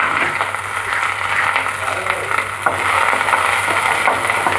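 Onions sautéing in a pan for a hotel-style kara chutney, a steady soft sizzle with occasional stirring scrapes, fairly close and even throughout.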